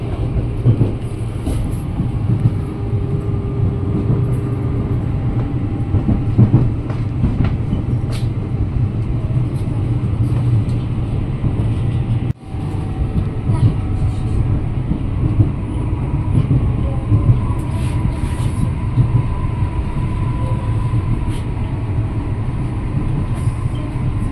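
A KRL commuter train rolls into Bekasi station, a busy eight-track stop, heard from inside the carriage as a steady, loud rumble with faint rail clatter and no voices.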